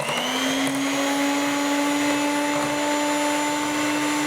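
An electric mixer whirs steadily while beating apple cake batter of flour, milk, eggs, cinnamon and baking powder, a loud continuous motor drone with a slight pitch drift and no pauses.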